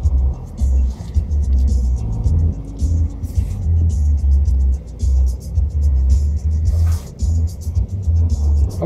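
An eighth-generation Toyota Hilux crawls off-road through a pit with diagonal wheel articulation, its engine rumbling loudly and unevenly as it climbs and labors, while voices talk faintly inside the cab.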